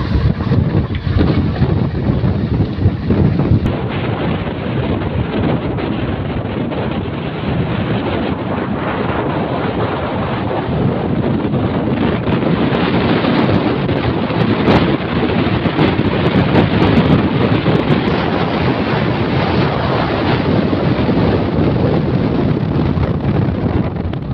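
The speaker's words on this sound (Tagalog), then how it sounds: "Sa kabilang side naman tayo kasi masyadong hangin doon dito." Strong, constant wind roaring and buffeting the microphone on a ferry deck, with a low engine and water rush beneath and no talking.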